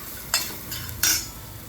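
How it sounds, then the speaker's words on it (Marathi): Turmeric and ground spice paste being stir-fried in a pan: two brief scraping stirs over a faint sizzle, close and fairly quiet. "सो हळद आणि हे वाटण मस्त परतवलंय."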